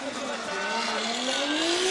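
A Formula Drift Japan qualifying car driven by Kazuya Iizuka swings into a corner at a big angle, its engine droning loud and steady while the pitch climbs, a continuous race-car roar.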